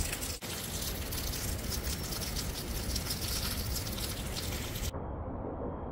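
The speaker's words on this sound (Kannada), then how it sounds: "ಮತ್ತೆ ಮಳೆ ಸ್ಟಾರ್ಟ್ ಆಯಿತು" Rain falls steadily during a hill-country stop at a wild hotel in Valparai, making a dense, even patter across the whole stretch before cutting off abruptly near the end.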